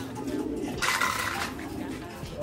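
Pigeons in a loft coo nearby, low throaty calls with a brief burst of wing or rustle noise partway through, no clear speech.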